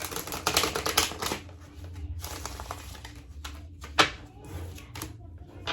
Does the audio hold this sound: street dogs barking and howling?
no